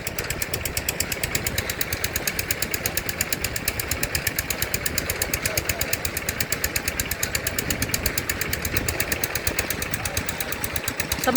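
A groundwater well drilling rig's engine runs steadily and loudly nearby, a continuous rapid thumping drone with a fast mechanical pulse throughout and no clear talk.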